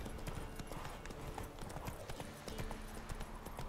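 Roach the horse trots through The Witcher 3, steady clip-clop hoofbeats repeating in a quick even rhythm at moderate loudness over a low game ambience, with no talk.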